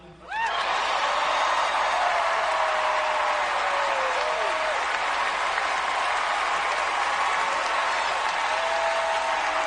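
A large Grammy Awards audience gives Bad Bunny a sustained ovation, dense continuous applause with cheers and whistles filling the hall from start to finish at steady loudness.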